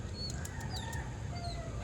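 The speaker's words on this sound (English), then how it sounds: "Hey, little chickens." Faint clucks and chirps from chickens come in scattered short calls over a low, steady background hum, fairly quiet and a little distant.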